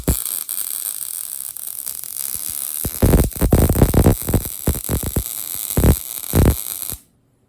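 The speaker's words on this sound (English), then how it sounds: "And then I'll do the weld." A round plug weld being laid onto a wheel axle, heard as a steady electrical hum followed by loud, irregular crackling arc bursts that continue for several seconds before stopping abruptly.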